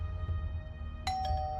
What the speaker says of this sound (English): Right now, the doorbell suddenly rings